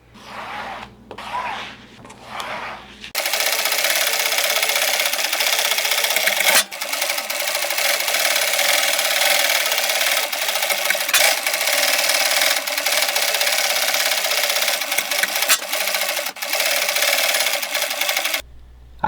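A sewing machine runs in a long, steady, loud burst stitching a Dodge Ram truck seat bottom cover during reupholstery. A few brief mechanical clicks come before it, and the run breaks off near the end.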